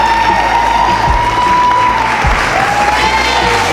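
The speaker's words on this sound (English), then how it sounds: "Please give him another round of applause." Crowd at a dunk league finale applauding and cheering, loud continuous clapping and crowd noise with a steady tone running through, dense and close throughout.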